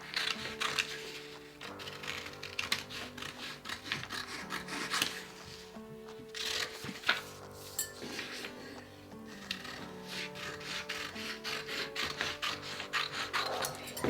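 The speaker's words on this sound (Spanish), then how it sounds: "Aquí simplemente me hace falta cortar el molde de espalda." Scissors snip and rasp through paper while cutting out a back bodice pattern for a wrap blouse, in a long run of soft, uneven cuts with faint background music and no speech.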